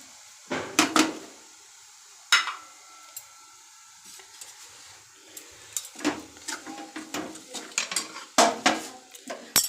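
Grated coconut and date jaggery filling for patishapta stirred in a wok over a low flame: close, repeated metal-on-metal scrapes and clanks of a spatula, with a light sizzle between strokes.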